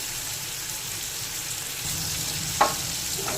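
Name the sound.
prawns frying in a pan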